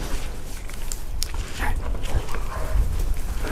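Working dogs barking, yipping and whimpering outdoors during field training, excited calls scattered over steady background noise with footsteps nearby.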